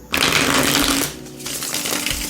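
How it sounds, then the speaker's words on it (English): A large 160-card oracle deck is riffle-shuffled in a quick fluttering burst, then a short pause before a second softer round of card riffling. "This is too many cards to try to shuffle at once, and that's okay."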